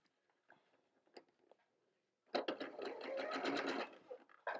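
A sewing machine stitches quilt pieces, starting as soft scattered clicks and handling noise, then running in a close, steady mechanical burst of rapid stitching.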